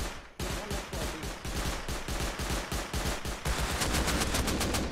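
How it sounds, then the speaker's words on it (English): Video game gunfire from inside a compound comes as rapid automatic bursts, dense and continuous, with loud repeated shots that intensify toward the end. "He's getting shot from in the compound."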